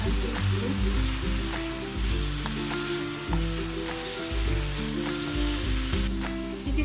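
Chopped prawns sizzle and crackle as they are stir-fried in a pan, a dense frying hiss with a low rhythmic hum pulsing underneath and occasional scraping taps, close by and without speech.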